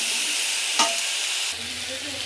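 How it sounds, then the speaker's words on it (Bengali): Spiced shrimp curry being stirred and sautéed in a pan, giving a soft continuous sizzle with a brief scrape of the spoon partway through. "আর এটা মশলা দিয়েছি, দিয়ে একটু কষতে হবে ভালো করে।"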